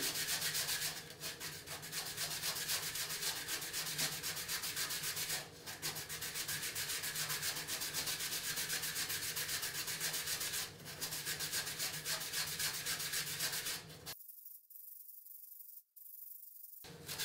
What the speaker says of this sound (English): So I'm going to start sharpening this one. Again, a very light touch, and I'm rotating the whole time.